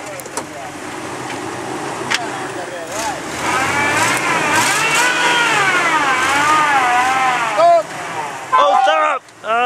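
An off-road Jeep engine revs while pulling another stuck Jeep free on rough terrain in Lentini, Sicily, swelling from quiet to loud, sustained revving with wavering pitch and abrupt bursts near the end.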